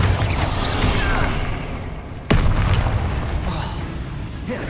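The Bombarda spell explodes in the video game Hogwarts Legacy with a sudden sharp boom midway, set against continuous loud game noise and rumble.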